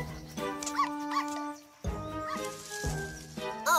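A cartoon dog gives a series of short, bright barks and yips, close and loud, in quick bursts with brief gaps between them.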